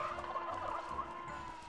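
A chicken clucks in Looney Tunes Back in Action, the video game, a steady stream of clucking that is faint and unbroken for the whole stretch, with no speech over it.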